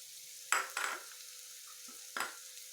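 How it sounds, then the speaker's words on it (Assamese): A spoon stirs jaggery into spices in a pan over a low flame, with a few short scraping strokes and a faint sizzle between them, close and quiet. "এতিয়া মই ইয়াক হলাই ল'ম।"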